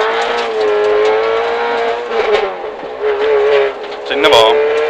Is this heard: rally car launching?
yes